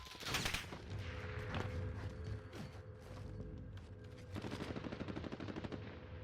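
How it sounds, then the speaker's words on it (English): Rapid bursts of automatic gunfire in the Warzone video game, sharp repeated cracks layered with mechanical clatter and creaks, loud and close, sustained through most of the stretch with a dense rattling run near the end. "now we have this guy right here shooting at this guy"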